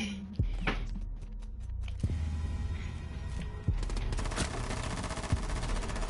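Single-fire gunshots in the video game Rainbow Six Siege: several sharp, spaced cracks at irregular intervals over a continuous background of game noise, with no speech.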